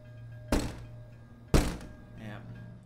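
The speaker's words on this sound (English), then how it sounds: "he's banging her hand against the window" A hand bangs against a window in a horror film, two loud heavy thuds about a second apart, with a faint voice briefly afterward.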